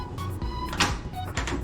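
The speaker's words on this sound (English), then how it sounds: "so I open the door" An accessible hotel room door at Disney's Beach Club Villas opens with a latch click, a short whir and a few mechanical clunks, all close and fairly loud.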